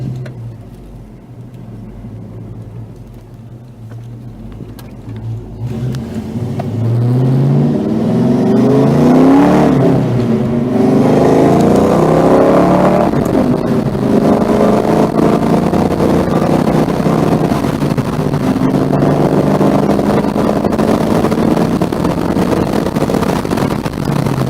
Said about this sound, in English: I can drive and shift one-handed